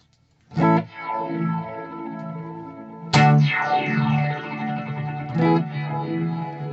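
Electric guitar chords struck three times through a Boss delay pedal, each ringing out with repeating echoes and a warbling, modulated delay tail, with no talking.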